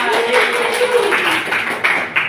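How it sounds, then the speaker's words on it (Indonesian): Classroom students clap their hands together in a short, brief burst of applause, heard close and fairly loud alongside a voice. "Tepuk tangan."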